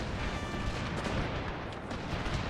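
Cannon fire from gunnery units in a Total War battle set in the Thirty Years War rumbles as a dense, continuous wash of distant booms, fairly faint and without any talk.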